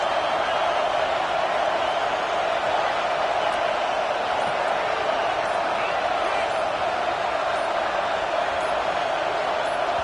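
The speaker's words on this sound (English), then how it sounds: "Listen to this crowd just shaking the girders of this place, trying to help their defense." A packed football stadium crowd in Alabama roars steadily and loudly for the full stretch, a dense wall of noise rising to rattle the structure and help the defense, with no break or pause.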